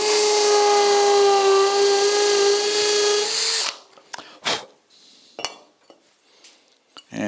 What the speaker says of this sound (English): I need to drill a couple of little holes